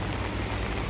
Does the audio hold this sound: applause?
no